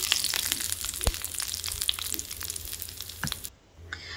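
A hot tempering of spices in oil for dahi vada is poured into mixed yogurt, giving a brief sizzle and crackle with a few sharp pops, close and moderately quiet.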